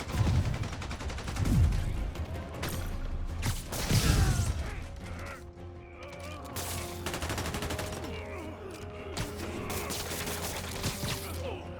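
Rapid gunfire erupts during a store holdup in the Marvel's Spider-Man video game, sustained loud bursts layered with mechanical clatter and a couple of heavy impacts.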